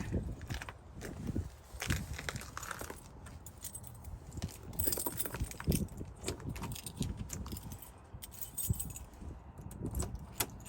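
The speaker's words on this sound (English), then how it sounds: "Trying to find the keys. There they are." Keys jangle and clink in repeated bursts while being hunted for inside a stored RV, with rustling and handling noises close by and a voice faintly audible in the background.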